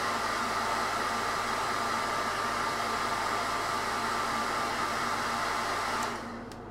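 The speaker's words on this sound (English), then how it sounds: "It's going to blast these with the hairdryer." A hairdryer blasts a steady, loud airflow roar onto freshly airbrushed Dark Eldar miniatures, running close and unbroken before switching off near the end.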